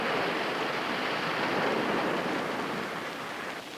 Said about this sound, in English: Here the waves were right on our doorstep.